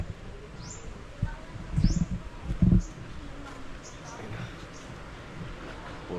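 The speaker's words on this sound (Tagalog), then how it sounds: "Puro huni lang ng ibon." Faint, scattered bird chirps and short calls drift in from a distance over a quiet outdoor background, with a few low thumps partway through.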